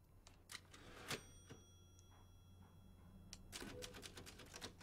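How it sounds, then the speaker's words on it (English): In Resident Evil Village, the typewriter save point sounds as a faint scatter of sharp mechanical key clacks and a bell-like ding over a low steady game hum, with a quick burst of rapid clicks near the end. "Typewriter, save your progress."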